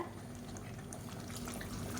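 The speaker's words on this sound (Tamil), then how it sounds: "இந்த ஸ்டேஜில் தண்ணி சேர்த்துக்கலாம்" Hot water poured into simmering mutton curry in a pot, a soft liquid splash and gurgle heard faintly and close for a couple of seconds with no voices.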